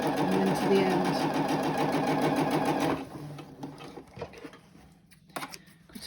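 Sewing machine stitching face mask fabric, including a short back stitch: a steady, fast mechanical whir runs for about three seconds, then stops, leaving quieter clicks and handling noises close by.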